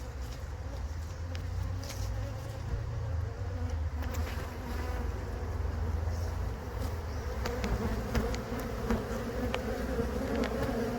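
Honey bees hum in a dense, continuous drone at an open hive, close and steady throughout, with occasional soft clicks and handling noises and no clear speech.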